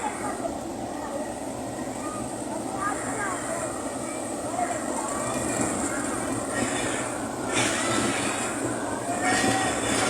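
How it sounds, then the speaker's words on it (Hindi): A train in Gujrat rolls through heavy rain, a continuous low rumble with a dense hiss of rainfall and occasional squeals and clatter from the wheels, while someone talks over it. "ये कितना प्यारा मंजर है रेलगाड़ी का।"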